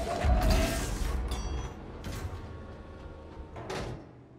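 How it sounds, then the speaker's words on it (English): A mechanical door slides open in the Threshold story mission of a video game, a loud low rumbling whoosh with a couple of clanking bursts, then trailing off as the movement settles. "so that the door opens"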